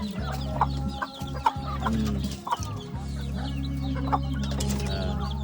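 Breeding chickens cluck repeatedly nearby in a lively, uneven rhythm, with a brief flutter of wings among the calls.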